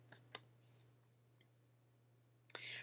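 A Tab key pressed on a computer keyboard among a few soft, quiet clicks scattered over a couple of seconds, close by but faint, with no speech.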